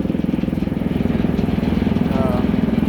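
TYM 654 tractor engine idling in neutral with a steady, rhythmic diesel chug, close and loud, while a person talks over it.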